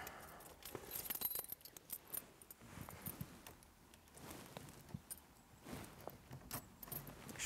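Keys jangling in short metallic bursts close by, just before starting a 1972 Triumph Spitfire MkIV 1300 with its ignition barrel low down, with faint handling noises and no talk.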